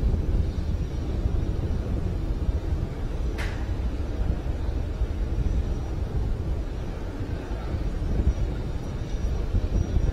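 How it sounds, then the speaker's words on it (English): A rocket's first-stage engine burns during launch, a steady, distant, low rumbling roar with wind-like hiss that holds evenly for ten seconds with no voices. "This first stage will continue to burn for about another 20 seconds"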